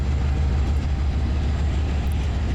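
A train climbing a grade on the Tehachapi Pass in Train Simulator 2021 gives a steady, loud low rumble of engine and rolling wheels throughout, with no talk over it.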